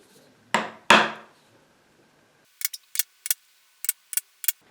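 Two sharp taps of a center punch marking wood for an SG Junior-style guitar body, followed after a pause by a quick series of lighter, higher clicks.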